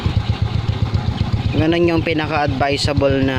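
A Suzuki Smash 115 motorcycle idles just after an oil change, its close engine putting out a steady low, rapid putter, and someone talks over it for the second half.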